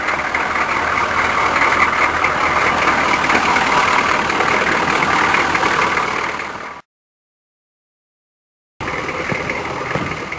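A 6.2 diesel engine runs steadily at idle with a constant broadband rumble and whine, cutting out briefly for about two seconds before the same running sound resumes.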